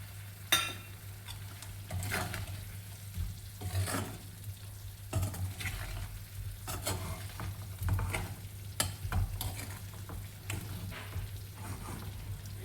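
Fried potatoes stirred into sizzling masala in a pan for a spicy potato curry, a continuous crackling fry with repeated spoon scrapes and clinks against the pan, no talk.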